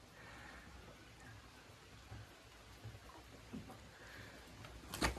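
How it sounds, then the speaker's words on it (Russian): Rain falls outside a chicken coop, a faint, even hiss of drops with a few soft splashes. A brief louder knock comes right at the end. "На улице дождь"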